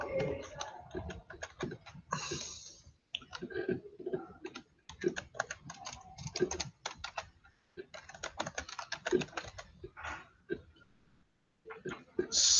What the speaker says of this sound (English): so assuming I'm typing everything correctly